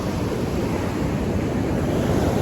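Ocean surf at Laguna Beach near high tide, a continuous broad roar of breaking waves with wind noise on the microphone, steady and loud throughout.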